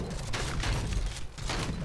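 Enemies in Rogue Stormers fire a dense, continuous volley of gunshots with muffled booms, a loud, rough barrage lasting a couple of seconds.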